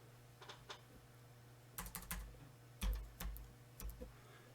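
Someone types on a computer keyboard, entering data into a ProjNet screen. Faint, scattered keystrokes come in short bursts with quiet pauses between them.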